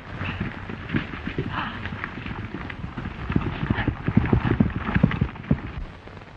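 Horse hooves clip-clopping at a steady pace through a 1935 Western scene, a dense run of close, uneven beats that grows slightly louder toward the end, with a faint voice underneath.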